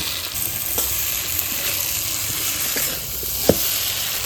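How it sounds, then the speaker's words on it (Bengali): Potato and eggplant fry in a pan for a Bengali vegetarian dish, making a steady close sizzle with a few stirring clicks and no talking. "আলুটা আমি দিয়ে দিচ্ছি। বেগুনটা দিয়ে দিচ্ছি।"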